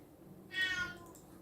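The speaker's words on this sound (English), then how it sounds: "And my cat is happy." A cat gives a single short meow, moderately close and clear over quiet room tone.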